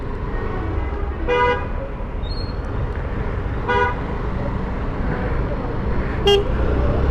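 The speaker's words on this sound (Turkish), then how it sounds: "Herkes korna çaldı biz çalmadan olmaz." Several short car horn toots sound at intervals over steady traffic rumble in Kırıkkale, Turkey, one near the start, another in the middle and a sharper one near the end.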